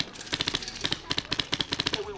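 Wolverine Quake gun fired on full auto in rapid bursts of sharp cracks, irregular and fairly close, with short gaps between strings of shots.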